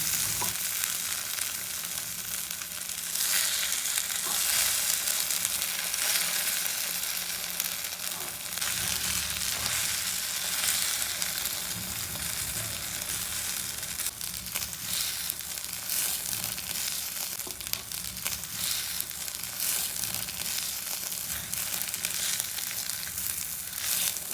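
Beaten eggs for egg kalakki sizzle and fry in a pan while being folded over and over, a steady close crackle with scraping stir sounds running throughout and no voices.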